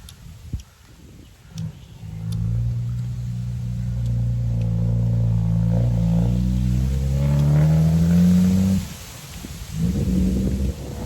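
A car engine rises and swells as the vehicle passes nearby, growing louder then dropping off, with faint rustling outdoors around it.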